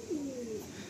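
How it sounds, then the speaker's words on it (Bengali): Malbai pigeons, female birds kept for sale, give a soft low coo close by, a single rolling call with a faint background hum and no voices. "দেখুন আপনারা মালবাই চান তো মালবাই পায়রা আজকে নিয়ে চলে এলাম"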